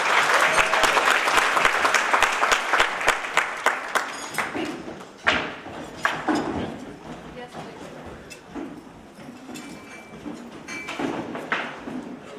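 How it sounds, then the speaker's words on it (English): A crowd at an outdoor arts festival applauds student musical theater performers, loud clapping and a few cheers at first that gradually thin and fade, with a voice speaking over the later part. "Let's give them a round of applause."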